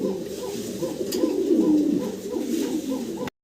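Pigeons coo in soft, repeated rolling calls at close range, a steady run of low throaty notes with no speech.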